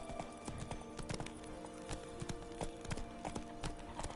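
Hooves of the horse Roach from The Witcher 3 gallop in a steady, rapid clip-clop rhythm that stays close and clear throughout, with a low, constant ambient hum underneath.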